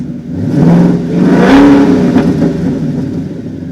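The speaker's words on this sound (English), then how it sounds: "2019 Ford Mustang GT. Going all the way to 4K." A 2019 Ford Mustang GT with a Pypes H-pipe cat-back exhaust revs up to about 4,000 rpm and holds there, a loud, close, steady engine roar with no talk over it.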